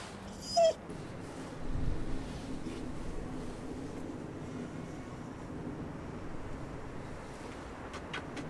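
A dog whimpers with a short, sharp yip near the start, then a soft, breathy whine that trails off, while wind and distant low rumble continue in the background.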